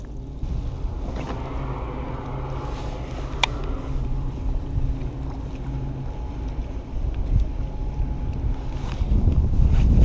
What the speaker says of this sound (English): The wind has been horrible all day.